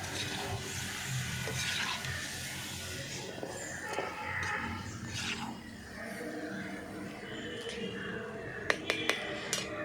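Bilimbi (irumban puli) pickle being stirred in a pan, a soft wet scraping and gentle sizzle with occasional light clinks of the spoon against the metal near the end.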